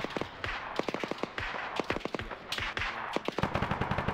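Rapid bursts of AK rifle fire crack out in a tactical military shooter game, sharp repeated volleys with short pauses between them, fairly close and loud throughout.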